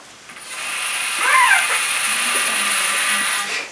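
A thick metal spoon pressed onto ice gives a loud, steady ratcheting squeal with a brief rising and falling whine in the middle, sustained for several seconds before easing off.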